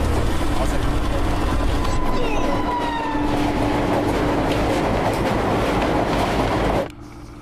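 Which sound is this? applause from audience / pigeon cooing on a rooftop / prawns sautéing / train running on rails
train running on rails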